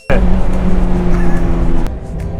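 A Mazda Miata race car on a track kicks in abruptly and holds a loud, close engine drone throughout, with a brief sharp noise near the end.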